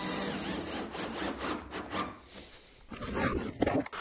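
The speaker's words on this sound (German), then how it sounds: "Stellenweise, wo ich vermute, dass es nicht gut hält, schraube ich das nieder." Power drill driving screws into old, loosened wood on a cracked antique sideboard being restored, a steady whirring drive with scraping rubs, loud and close, ending in a sharper burst of tool noise.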